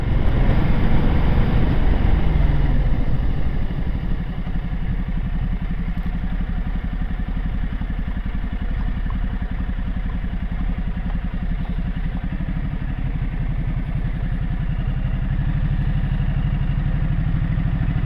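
A Ducati Multistrada motorcycle engine runs steadily and close by, a low rumbling idle with a rougher burst at the start, continuing alone without voices.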